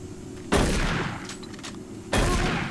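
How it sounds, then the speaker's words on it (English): Two sharp, heavy gunshots in the Doom 3 expansion The Lost Mission, each a loud boom with a short decaying tail, spaced about a second and a half apart. "Well, it's just a warning shot."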